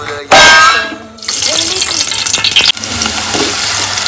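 Onions for a chicken curry sizzle loudly in a pan, with a sharp metallic clang of the spoon as they are stirred, then continuous close frying hiss.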